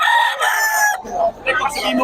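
A rooster crows loudly and close by, a drawn-out call that breaks off and is followed by shorter clucking cries.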